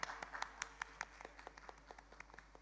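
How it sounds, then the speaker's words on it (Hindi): Scattered hand claps from an audience at a Rajasthani folk music show semi-final, a thin and fairly quiet round of applause with separate distinct claps rather than a full ovation. "एक बार ज़ोरदार तालियाँ हो जाए आप सभी की तरफ से"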